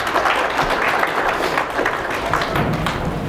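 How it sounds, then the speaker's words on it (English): Dense, steady applause fills a conference hall at a young farmers' gathering, a thick wash of many hands clapping together without a break, fairly loud and close throughout. "A round of applause."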